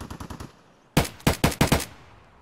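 Gunfire in a video game during online multiplayer: a quick burst of light shots, then four or five loud, sharp cracks spaced irregularly, close and alone without talk.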